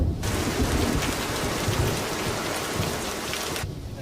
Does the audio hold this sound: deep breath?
no